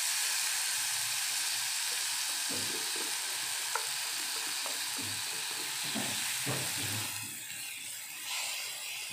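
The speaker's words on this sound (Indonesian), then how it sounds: "Selanjutnya kita tumis ya, cincangan bawang putih, bawang merah, dan cabai merah serta cabai rawitnya." Chopped garlic, shallots, red chilies and bird's eye chilies sauté in two tablespoons of oil in a wok over medium heat, giving a steady, loud sizzle and hiss with scattered stirring clatters, no voices.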